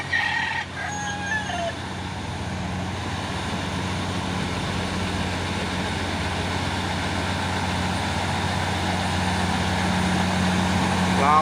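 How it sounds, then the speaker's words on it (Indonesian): A container trailer truck climbs the Bukit Kodok hill in the morning with a steady low engine drone that swells slightly as it labours, along with a brief rooster crow near the start. "satu nih truk trailer VAW membawa peti kemas atau kontainer melewati tanjakan Bukit Kodok di pagi hari"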